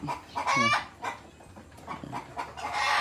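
Chickens of a purebred ornamental breed on a farm, loud close clucks and rooster-like squawks in quick bursts, with a faint bark-like sound and no talk.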